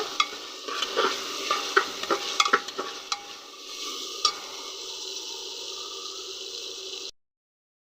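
Whole spices such as bay leaves, cloves and cardamom being stirred in a frying pan with oil: a steady close sizzle with scattered scraping clicks of a spoon, ending abruptly.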